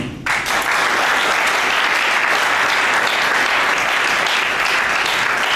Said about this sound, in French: Prière d'applaudir chaleureusement pour vous.